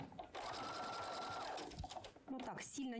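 A sewing machine stitching a neckline on knitted fabric runs in a fast, continuous whirring hum, with a voice speaking over it throughout.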